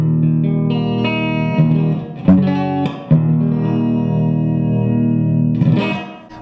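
Gretsch G5135PS electric guitar on the neck pickup with a mellow tone, a sustained chord that rings out, short picked strums and a few notes in between, a final strum near the end, close and alone without voices.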